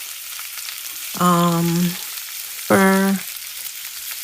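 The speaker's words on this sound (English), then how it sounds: "now we have made it to the stove, and I will be frying the chicken breast" Steady sizzling of chicken breast frying in a pan on a stove, with two short tonal beeps or voiced sounds over it; no clear talking.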